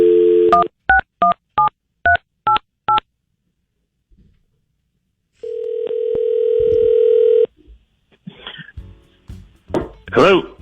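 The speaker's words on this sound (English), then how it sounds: "Sabrina, we're going to call up Todd." A telephone keypad dials a number in a quick run of distinct touch-tone beeps, then a steady dial tone sounds for a couple of seconds before a voice begins talking.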